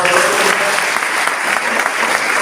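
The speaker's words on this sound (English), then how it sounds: "I think we should give Mark a round of applause for his hard" Sustained audience applause at a community awards presentation, a thick even wash of many hands clapping loudly throughout.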